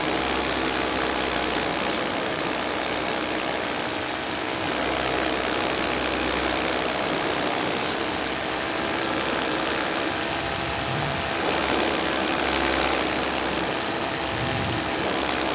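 A four-stroke paramotor engine drones at cruise throttle around 5,500 to 6,000 rpm, a loud, steady propeller buzz with wind rush, close and unbroken throughout.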